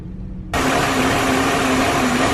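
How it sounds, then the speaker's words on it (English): Car engine idling roughly and hunting, a steady mid-loud drone with a sustained hum that begins abruptly after a quiet start and runs continuously without talk. "You can hear the hunting idle."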